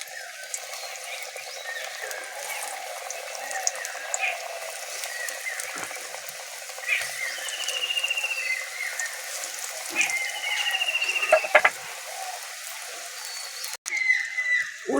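Eggplant and egg slices frying in hot oil in a wok give a continuous close bubbling sizzle with scattered crackles and spatters, fairly loud throughout and with no voice.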